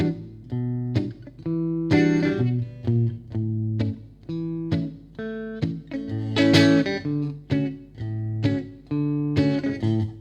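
Electric guitar played on the neck pickup for a warmer, acoustic-like tone, a sequence of plucked notes and strummed chords in a rhythmic pattern, close and clear with no talk.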